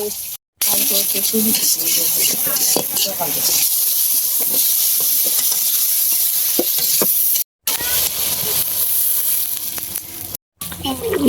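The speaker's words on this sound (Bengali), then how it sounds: "ভাজা মাছটি দিয়ে দিতেছি।" Fried fish goes into a bubbling curry, bringing a loud close sizzle and spluttering hiss with stirring scrapes, briefly cut by short silent breaks.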